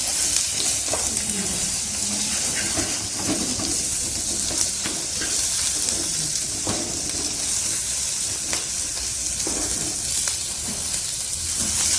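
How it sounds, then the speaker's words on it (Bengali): Mushrooms fry over high heat in a pan for chilli mushroom, giving a steady loud sizzle and hiss with scattered crackles and pops throughout, and no voices. "এরপরে একটু এটাকে হাই সিমে ভেজে নেব।"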